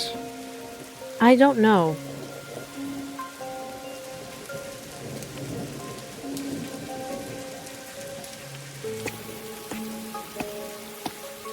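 Steady rainfall in the video game Master Detective Archives: Rain Code, a soft continuous hiss under tonal music, with a brief spoken line and a sharp rising tone near the start.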